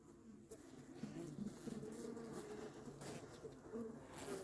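Bees at beehive frames, a soft steady buzzing drone with a few brief sharper sounds, faint and close-ish outdoors, with no one speaking.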